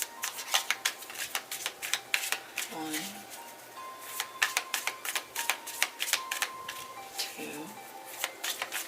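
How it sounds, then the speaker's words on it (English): Tarot cards shuffled by hand in quick, crisp riffling bursts, close and fairly quiet, with a voice counting briefly between the shuffles. "I'm going to do 3 more shuffles."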